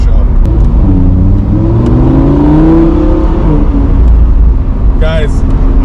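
A Lamborghini Huracán engine revs from outside the car, climbing then dropping in pitch over a loud steady rumble, with a short burst of other noise near the end.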